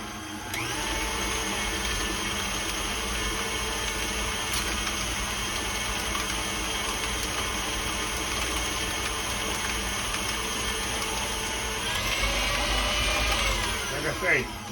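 An electric mixer creams butter and sugar for an old-fashioned coconut cake, a continuous whirring motor whine running close and steady for about fourteen seconds, with a slight rise in pitch and grit near the end.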